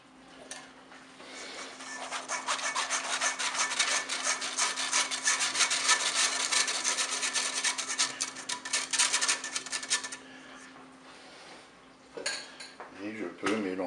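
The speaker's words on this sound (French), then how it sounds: "Je mets un tamis sur mon saladier. Je mets ma farine." Flour being sifted through a metal sieve into a salad bowl for a tuna cake batter, a continuous scratchy rubbing and tapping for about ten seconds, then a few brief clinks, fairly quiet and close.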